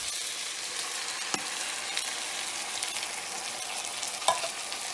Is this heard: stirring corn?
yes